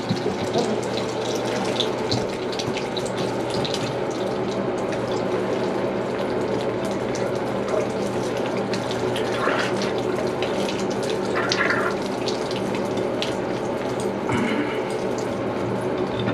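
Water runs steadily from a Moen Pos-Temp faucet in a continuous splashing rush, close by, with faint clatters and movement underneath.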